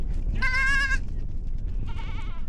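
Goats in the Sahara desert let out two bleats, a loud, wavering cry followed by a fainter, shorter one, against a low rumbling wind-like background.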